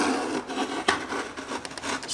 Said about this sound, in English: Kind of go gentle in the prying department because you don't want to break this incredibly brittle housing.